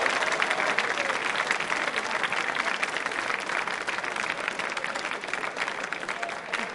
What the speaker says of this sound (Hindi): उनके सम्मान में तालियां बजाइए जोरदार तरीके से